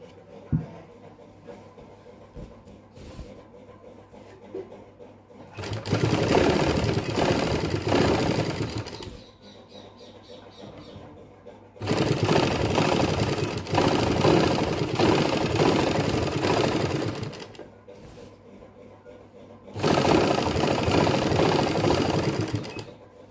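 A sewing machine stitches fabric piping in three long runs of steady, loud whirring, separated by quiet pauses with faint handling noises; no one speaks.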